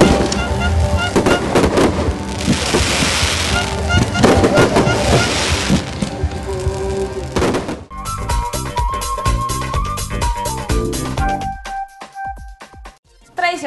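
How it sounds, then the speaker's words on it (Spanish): Fireworks go off at the Universidad San Martín football team's 2013 squad presentation. Rapid crackling bursts and bangs fill the air for several seconds, then thin out to scattered pops under music and voices. "la presentación del equipo con fuegos artificiales"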